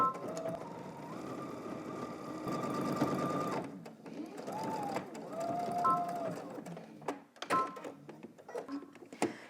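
A sewing machine stitches down a pants flap in two long bursts with a brief pause between them, followed by shorter stop-start runs and clicks as the fabric is handled, fairly close and loud.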